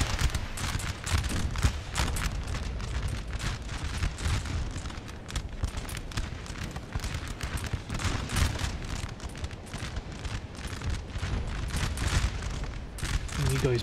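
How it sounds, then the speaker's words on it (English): Grenadier musket volleys crackle in a Napoleon: Total War battle, dense ragged bursts of gunfire and distant booms rolling continuously over several seconds amid battlefield din, with a voice talking over it. "Go on, grenadiers, open fire against the sharpshooters."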